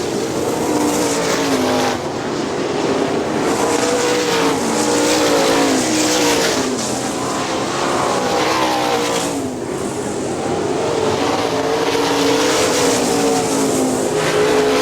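410 sprint cars race around Hartford Speedway, a loud, continuous roar of several engines rising and falling as cars pass and accelerate through the laps, with no voices over it.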